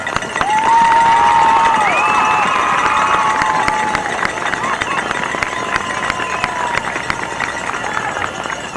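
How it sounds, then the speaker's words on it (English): A crowd at a 1993 high school football game between Frontier and Woodsfield cheers and applauds a marching band, with sustained broad crowd noise, whistles and shouts at a distance. "would you join with me in giving these young people a round of applause?"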